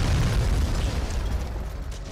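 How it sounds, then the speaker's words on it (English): Bazooka rocket explosion in the Medal of Honor Frontline video game, a loud, close, deep rumbling boom that fades out over about two seconds. "Yeah, you're gonna shoot that bazooka at me?"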